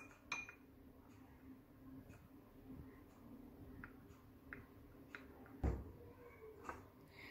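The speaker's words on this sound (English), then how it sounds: "using the stirring stick, I will mix" A stirring stick mixes a green-apple-scented glycerin soap mixture from a science kit, giving faint, sporadic clinks and taps against the container in a quiet room.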